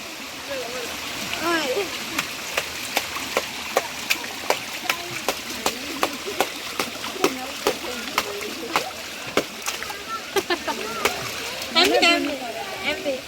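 Water splashes at a waterfall in a series of sharp, regular slaps and patters, heard under near, ongoing talk.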